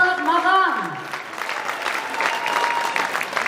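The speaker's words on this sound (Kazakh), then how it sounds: "Қараңызшы мына шапалақ маған." Applause at a sündet toy (circumcision feast) celebration: a brief sung or musical tone opens, then a crowd's steady clapping swells and carries on evenly to the end.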